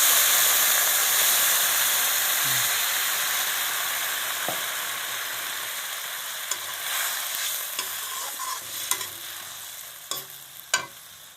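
Pork sizzles in a pan just after water is added, giving a loud, steady hiss that slowly fades. Toward the end, a few sharp clinks and scrapes of stirring break through.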